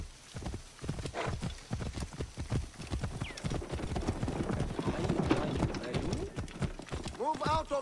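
Racing horses gallop in Assassin's Creed Origins, their hooves drumming in quick, dense clip-clop rhythms up close for several seconds. A horse whinnies near the end.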